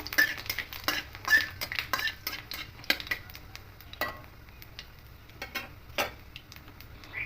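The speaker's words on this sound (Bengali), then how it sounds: "আর গোটা মৌরি দেব আর দুটো শুকনো লঙ্কা দেব দিয়ে হালকা একটু নাড়াচাড়া করে নেবো" Whole fennel seeds and dried chillies stirred in a pan of oil make quiet, irregular scraping and tapping with a soft sizzle underneath, in scattered close-up bursts.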